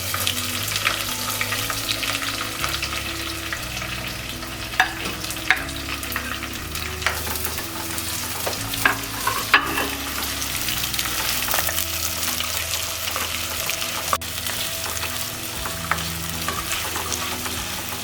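Onions frying and being stirred in a pan, a steady close sizzle with occasional spoon scrapes and clinks, soft music playing underneath throughout.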